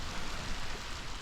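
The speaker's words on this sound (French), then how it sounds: "Et là, il se met à pleuvoir." Rain falls in Benin, a steady, even hiss of drops that fills the whole short moment without pause.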